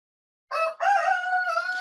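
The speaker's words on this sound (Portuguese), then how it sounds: "os galos já estão começando a cantar" Roosters crow loud and close after a moment of silence, a short first call followed by a long, drawn-out cock-a-doodle-doo with no voices.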